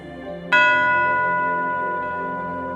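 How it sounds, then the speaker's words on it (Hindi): A single meditation bell is struck once, ringing out clearly with a bright, sustained tone that slowly fades. "हमेशा की तरह इस अभ्यास को घंटी की आवाज से शुरू करेंगे, यूं।"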